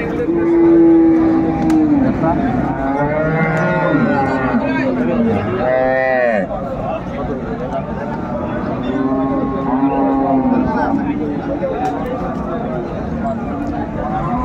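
Cows and calves, including Jersey cross dairy cows, bellow with loud, drawn-out moos at Ambari cattle market in Dinajpur, with voices talking throughout amid the busy market noise.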